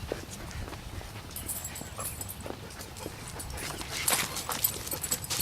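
Big dogs, a Great Dane and a Weimaraner, at a house along a walking route make faint, scattered sounds, soft yelps and whimpers over a low outdoor background, a little livelier toward the end.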